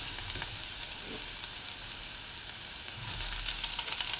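Carrots and beans sautéing in a pan for white sauce pasta, a soft steady sizzle with faint occasional stirring scrapes, no talk.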